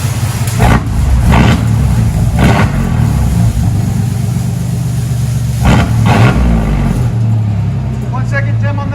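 A 1995 GMC Sierra pickup with a 4.3L V6 and straight-pipe dual exhaust idles loud and close, with several sharp throttle blips rising over its deep rumble; people talk nearby.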